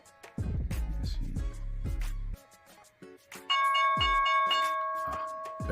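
A stock market closing bell rings at the end of the trading day, a run of loud resonant strikes followed by a sustained high ringing tone that holds to the end.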